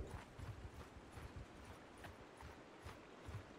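Horse hooves clip-clop in a steady trotting rhythm in the video game Mount & Blade II: Bannerlord, faint and even, with no talking over them.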